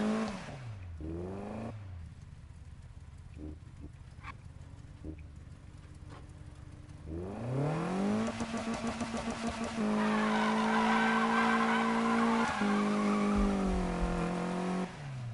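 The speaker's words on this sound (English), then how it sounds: "Does first gear burnouts." A naturally aspirated car in Need for Speed revs hard and does a first-gear burnout, its engine note climbing and sustaining a loud tire squeal that sweeps in pitch as it skids, with no voices.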